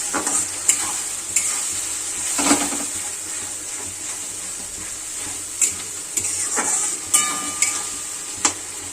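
Food frying in a pan, still unsalted, with a continuous bright sizzle and scattered spatula clicks and scrapes over about nine seconds, close and fairly loud, with no one speaking.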